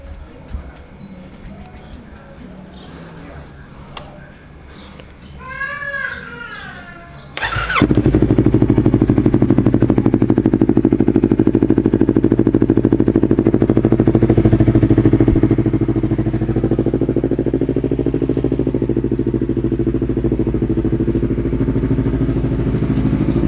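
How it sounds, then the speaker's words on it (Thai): Big bike motorcycle fitted with an RR-brand battery cranks briefly, then the engine catches and settles into a loud, steady idle close by, holding a rough rumble to the end after some quiet handling noises at the start. "เรามาฟังเสียงนะครับ มาสตาร์ทเครื่องดู"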